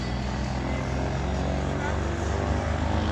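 Steady propeller-airplane engine drone at an airport on an airshow day, a constant loud rumble filling the whole clip with no pauses.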